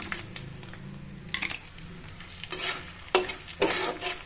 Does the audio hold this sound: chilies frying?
yes